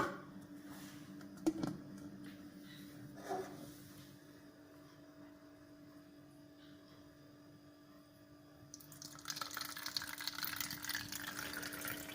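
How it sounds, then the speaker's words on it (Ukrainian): Water trickles and splashes steadily through a funnel filter, growing louder and brighter toward the end as the flow picks up, with no one speaking. "Тепер ми починаємо фільтрувати воду."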